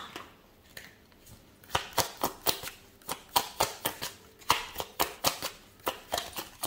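Tarot message cards being shuffled and drawn, a quick run of crisp flicks and slaps that starts soft and grows into dense, rapid clicks, close by with no talk.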